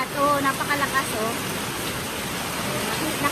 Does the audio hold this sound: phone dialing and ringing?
no